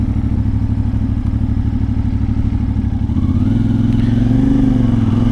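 A CFMoto Ibex 450 motorcycle engine runs steadily while the bike is ridden on a road commute. The drone is loud and close, and the pitch rises as the rider accelerates near the end.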